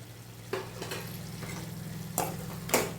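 Tomatoes sautéing in a pan for tomato pachadi give a faint, soft sizzle over a low steady hum, broken by a few light spatula taps and scrapes.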